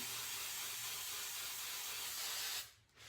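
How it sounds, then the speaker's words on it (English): Hairspray hisses from an aerosol can in one steady, fairly close burst lasting a couple of seconds, then cuts off into quiet. "Okay, so hairspray."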